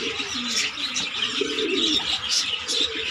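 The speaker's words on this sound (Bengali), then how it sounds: "সব পায়রা খাচ্ছে" A flock of Giribaz and Madras pigeons feeding in a loft coo in soft overlapping low murmurs, with busy bird chirps and rustling throughout, steady and fairly close, with no talk.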